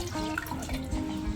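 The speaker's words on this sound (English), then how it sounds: "So this here is the stock from steaming the crabs." Stock from steaming crabs pours into a bowl while Ghanaian aprapransa is being made, giving a soft, steady trickle and splash of liquid, faint and close, with no talking.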